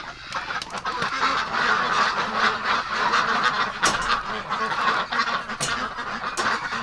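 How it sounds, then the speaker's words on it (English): Ducks kept in a barn during winter give a steady, loud chorus of honking quacks that carries on without a break, crowding together close by. "How is the ducks? Hello,"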